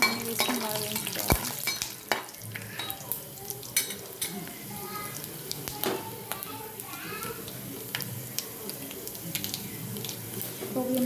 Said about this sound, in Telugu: అన్నీ వేసుకొని బాగా వేయించుకోవాలి.